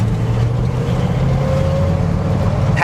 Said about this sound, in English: Love the sound of a V8.